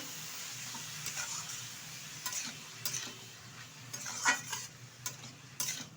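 A utensil stirs fenugreek greens, chopped brinjal and green chillies in a pan, with a low sizzle underneath and repeated clinks and scrapes against the metal, close and without talk.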